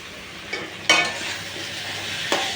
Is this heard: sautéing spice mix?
yes